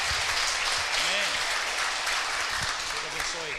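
A church congregation at an Easter service claps steadily in a dense, continuous round of applause. Voices can be heard talking and calling out underneath.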